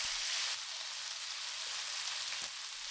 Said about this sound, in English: add the pieces of marinated chicken. Spread them well. Let them sear for 1 minute.